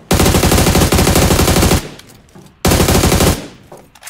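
Automatic weapon fire in the PUBG Mobile battle royale game rattles out in two long, loud, rapid bursts, the first nearly two seconds long, each trailing into echo before the next burst.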